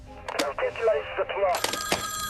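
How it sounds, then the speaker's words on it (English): A telephone rings with bright repeated electronic bursts in an operations room, mixed with urgent shouting voices. "Answer the bloody phone now!"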